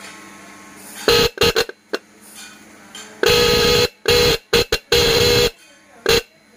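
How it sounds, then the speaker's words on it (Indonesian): Replica GA100 car horn set, 12-volt, sounding in a series of loud blasts: several long honks mixed with short quick taps, close up with no talking. "Yang kemarin minta di tes suara untuk klakson replika GA100"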